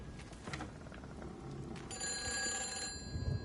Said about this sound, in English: Oh, the phone. The phone is ringing.